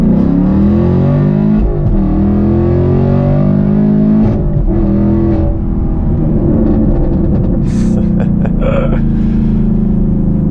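Chevrolet Camaro pulling hard under full throttle, its engine roaring loud and near with steady rising revs and a shift or two, alone without talk.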